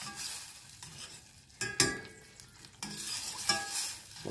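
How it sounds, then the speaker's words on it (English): A chipotle mango mixture for chicken wings sizzles in a pan as it is stirred, with uneven bursts of crackle and scraping strokes at moderate, close level. "I'm gonna stir that up a little bit."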